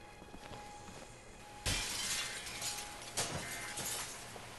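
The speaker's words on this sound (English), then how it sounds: "That's how glass breaks." Glass breaking in The Walking Dead video game: a sudden loud shatter followed by a bright wash of falling, tinkling shards, then a second smaller crash and scattered debris, with no talking.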